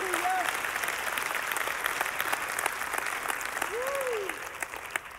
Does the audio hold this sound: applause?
yes